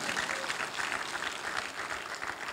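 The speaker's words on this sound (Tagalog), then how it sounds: "Kaya pumalakpak dito ang mga may Jesus sa buhay." A church congregation applauding, a steady sustained patter of many hands clapping that fills the whole moment.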